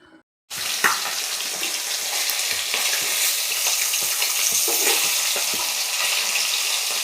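Pieces of rohu fish fry in hot oil, a loud continuous crackling sizzle with scattered pops and spatters, starting abruptly after a brief quiet moment.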